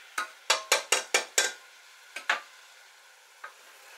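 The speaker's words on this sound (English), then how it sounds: "And we want to stir to brown that. Break it up, stir to brown it." Ground beef mince being stirred and broken up as it browns in a frying pan: a quick run of six scraping strokes, then a pair more and one last faint scrape, over a quiet background hiss.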